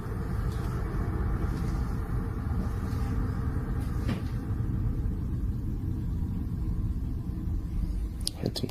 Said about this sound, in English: There's a car going by.